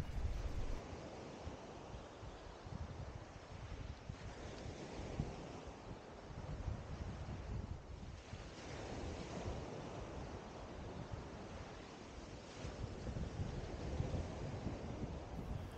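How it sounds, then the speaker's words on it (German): Steady wash of waves rolling onto a beach in the Mazarrón area of Spain, continuous and fairly soft, with broad wind-like noise and gentle swells of surf throughout. "Man hört vorne am Strand eben nur das Plätschern der Wellen."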